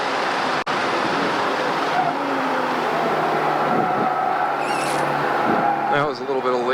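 Car cornering on a race track during a high-performance driving session as the driver lifts off the throttle, a steady engine drone with faint tire noise, under ongoing in-car talk.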